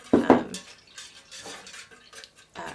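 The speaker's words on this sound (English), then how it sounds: "So I'm just going to stir this for a couple, maybe just a minute" A wooden skewer stirs melted wax for cherry almond wax melts, giving two sharp close knocks at the start followed by faint, scattered scraping.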